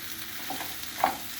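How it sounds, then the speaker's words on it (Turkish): Potatoes, onions and tomato paste sizzle while being sautéed in oil, a steady close frying hiss with a few light stirring scrapes. "5 dakika patatesli salçalı soğanlı yağımı kavurdum."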